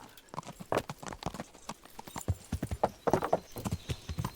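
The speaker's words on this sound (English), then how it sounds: "This horse is ideal. Gallop, dismount." Horse hooves gallop at a fast, steady rhythm in the Kingdom Come: Deliverance video game, a dense run of clip-clop hoofbeats sounding close and fairly loud, with a brief snort or whinny mixed in.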